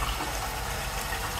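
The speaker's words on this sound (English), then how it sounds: "But we'll see what kind of flush it has." A hotel toilet flushes at the Theos Village Hotel in Chania, Crete, with a short, moderate gush of rushing water close by.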